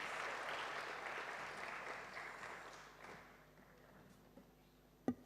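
Audience applause at an NPTEL stars feedback workshop, a dense burst of clapping that gradually thins and fades over several seconds, ending with a single sharp knock or tap.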